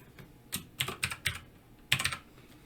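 Keys tapped on a computer keyboard while naming a track in Reaper: a few quick keystrokes, then a short burst of clicks and a final cluster of taps, close and fairly quiet with no voice.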